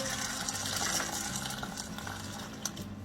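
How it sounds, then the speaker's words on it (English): Hot water is poured over black-eyed beans in a kitchen to soak them, a steady close splashing gush that runs the whole time with no voices. "So I'm gonna soak it in hot water"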